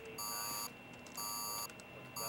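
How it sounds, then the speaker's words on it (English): Control room alarm in a film sound effect, a loud electronic beep pulsing in regular half-second bursts over a low hum of equipment. "We're showing an alarm in Sector 3."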